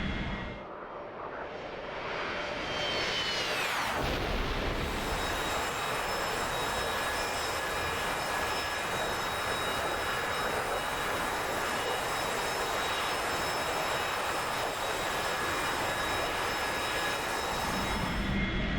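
An A-4E jet engine in a flight simulator, a steady loud whining roar with a high tonal whine, rising in a surge early on and then holding level.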